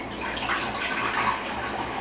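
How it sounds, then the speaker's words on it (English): Tap water pours steadily into a cooking pot, a continuous close hiss and splash without a break or any talk. "First, I put water"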